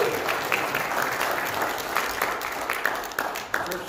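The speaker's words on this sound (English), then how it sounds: "Let's give him a big hand clap." Audience clapping for a school superintendent at a church children's Sunday school awards, a steady patter of hands with a few sharper claps standing out, moderately close and with no one speaking.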